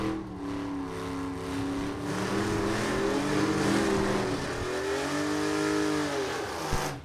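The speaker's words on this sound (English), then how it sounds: "In a 1950 Chevy 3100 pickup truck with a 292 inline six-cylinder" A 1950 Chevy 3100 pickup with a 292 inline six at a vintage drag race revs and accelerates hard, its steady engine harmonics climbing and shifting over about seven seconds, loud and close, with no talk.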